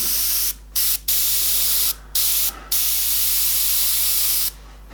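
An airbrush sprays paint mist while a skull design is painted, sounding as close, loud bursts of steady hiss broken by several short pauses, with no talking.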